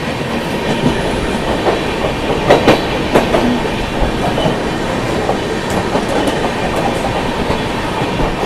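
The Sampoorn Kranti Express runs nonstop at speed toward Kanpur Central with a steady loud rumble and rhythmic clickety-clack of wheels on the rails throughout, with no voices.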